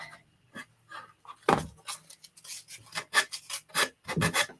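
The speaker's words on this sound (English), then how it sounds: "So I'm just gonna scrape that away" A tool scrapes excess transfer off the edge of a surface in short, irregular rasping strokes, close and fairly loud, with brief pauses between bursts.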